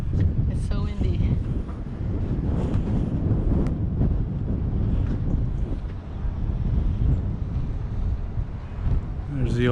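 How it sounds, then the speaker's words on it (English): Strong wind in San Sebastian buffets the microphone with continuous low rumbling gusts, loud and steady throughout, with brief bits of voices near the start and end. "It's so windy."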